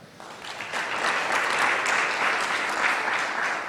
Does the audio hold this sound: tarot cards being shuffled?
no